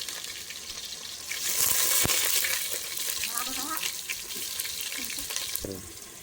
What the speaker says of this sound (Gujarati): તો ફાઇનલી જો તેલ થઈ ગયું છે ને હવે નાખી દીધી છે ડુંગળી